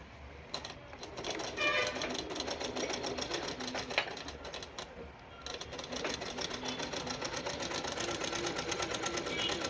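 An electric sewing machine stitches cloth with a rapid, steady mechanical whirr. It pauses briefly midway and then resumes at a constant pace, close and clear, with faint talk beneath.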